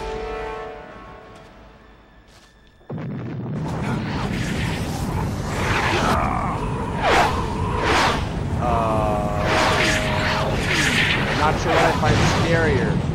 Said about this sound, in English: the giant explosion